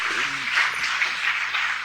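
A crowd applauds a winning team at the Bait Bazi 2025 results and certificate ceremony in Aurangabad, India, a steady dense patter of clapping with a faint voice and hum underneath.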